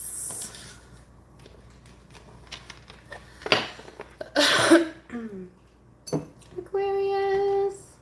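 A woman coughs a few times, with a throat-clearing burst and some short rough coughs between quieter moments, close to the mic, plus a brief high tone near the end.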